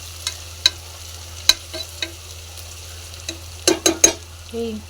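Onions fry in a pan for a curry, stirred now and then, with sharp utensil clicks and taps against the pan over a low steady hum, close and fairly loud.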